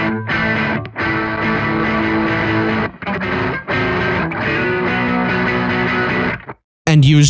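Electric guitar run through a Laney Ironheart plugin with drive and distortion stages stacked, playing dense, saturated chords continuously, loud and close, with a brief gap near the end before a final chord.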